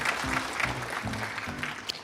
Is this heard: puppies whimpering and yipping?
no